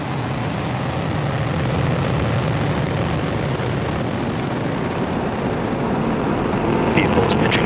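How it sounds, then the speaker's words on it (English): A Falcon 9 Block 5 rocket's engines roar continuously at liftoff for the GSAT-20 launch, a loud, steady, broadband rumble without pause. "Ignition and liftoff. Go Falcon,"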